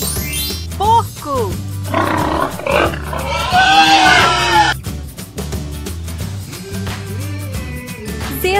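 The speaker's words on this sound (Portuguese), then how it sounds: "Porco." A pig oinks loudly and close up in a series of grunting, squealing calls, set among other animal sounds with a busy, music-like background.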